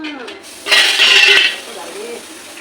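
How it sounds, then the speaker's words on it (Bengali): Water is poured out of a large drum with a short, splashy rush of about a second; a person talks before and after it. "দেখো আমার জল ঢালার স্টাইল দেখো"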